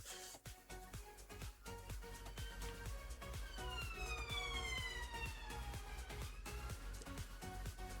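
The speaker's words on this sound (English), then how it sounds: "Somebody sent an ambulance for him very quickly." A wailing ambulance siren sounds in a video game with a Himmelsby setting. The rising and falling tones sweep over a steady rhythmic pulse and hold loud and continuous through the whole stretch.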